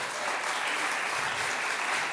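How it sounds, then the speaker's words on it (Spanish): Church congregation clapping together during a service, a dense, even wash of applause sustained throughout at moderate loudness. "démosle un aplauso al Señor"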